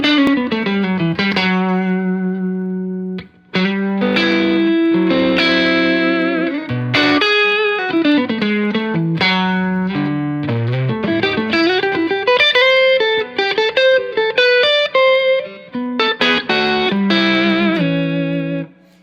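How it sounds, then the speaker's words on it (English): An electric guitar plays through a chorus effect pedal, giving a shimmering, doubled tone across a continuous run of chords and single notes. The playing is loud and close, with short gaps between phrases. "Here's what the chorus sounds like."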